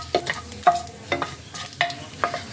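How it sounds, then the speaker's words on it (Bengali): Tempering spices with fennel seeds frying in oil for lentil dal, stirred in about five distinct scraping strokes evenly spaced over a light sizzle. "দিয়ে ফোড়নগুলোকে কয়েক সেকেন্ড একটু নাড়াচাড়া করে নেব।"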